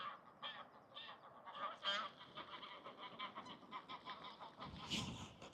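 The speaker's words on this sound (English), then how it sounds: "Geese are getting a bit feisty." Geese honk and squabble near a fishing lake in a busy, overlapping chorus of short calls, fairly close, with one louder burst of honking near the end.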